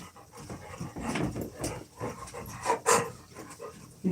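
A big puppy pants in quick, breathy bursts close by, the rough huffing rising and falling unevenly with no talk over it.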